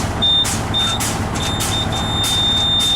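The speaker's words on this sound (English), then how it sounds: "Between 60 and 65 psi, low air warning device activated." Low air warning buzzer on a class one truck during a pre-trip brake check, a thin steady tone that cuts in and out over a loud idling engine, with short bursts of air hiss.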